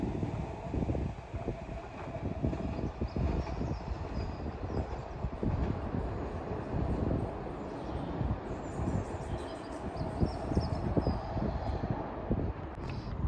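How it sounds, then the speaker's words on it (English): Northern passenger train running into a station on the Northumberland line, a continuous rumbling, clattering roll at moderate level with faint birdsong and wind, no talking. "Arriving in is a Northern service off to Newcastle"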